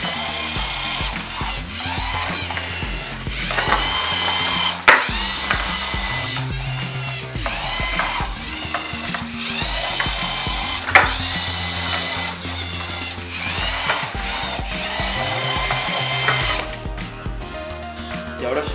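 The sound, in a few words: robot kit moving and sorting black and white cans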